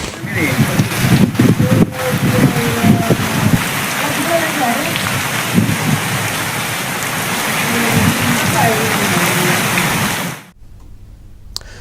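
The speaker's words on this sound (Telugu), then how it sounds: "అటు ఆంధ్రప్రదేశ్లోనూ 5-6 రోజులుగా జోరుగా వర్షాలు కురుస్తున్నాయి." Heavy monsoon-season rain pours down in Telangana, a loud, dense, continuous roar of drops on surfaces that stops abruptly near the end.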